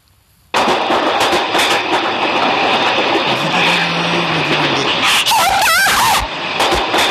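A train runs in a video game: a loud, close, steady rumble and clatter that starts abruptly, with a brief high squeal near the end.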